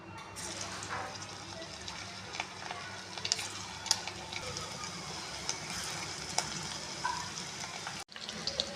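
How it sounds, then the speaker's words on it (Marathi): Minced meat balls frying in oil over a low to medium flame, a continuous close sizzle with sharp crackles and spits, ending with a brief clatter. "तर हे आपण फ्राय करून घेऊया."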